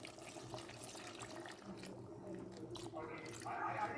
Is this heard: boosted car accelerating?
no